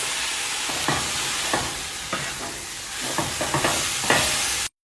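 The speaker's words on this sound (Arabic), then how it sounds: "وأضيف الفلفل الحار كذي بيز ونحمس" Hot chili peppers frying in a pan with garlic, a constant loud sizzle punctuated by several sharp stirring scrapes and pops at irregular intervals, cutting off abruptly at the end, with no talking.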